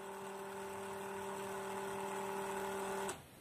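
A small DC motor driven by a Raspberry Pi through an H-bridge, running PWM signals, gives a steady close whine with a constant pitch that holds for about three seconds and then cuts off abruptly.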